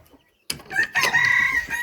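A hen in a coop lets out a sudden burst of loud, close clucking after a brief quiet moment, several sharp squawking calls running together until the end.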